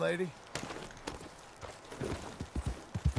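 Horse hooves clop at a walk in the Western game Red Dead Redemption 2, a soft irregular series of thuds growing clearer near the end, with someone speaking over them.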